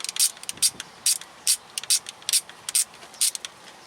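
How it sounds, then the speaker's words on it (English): A ratchet wrench loosening the bolt on a crankshaft position sensor of a 1.8L 1ZZ-FE engine in a Pontiac Vibe or Toyota Matrix, giving a quick series of close, crisp clicking strokes with short pauses. "And loosen the bolt off."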